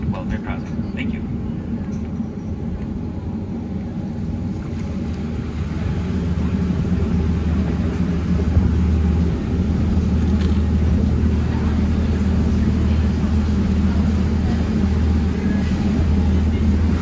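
A tour boat motors along a Copenhagen canal with a steady low engine rumble that swells slightly and holds throughout, with faint background noise on top.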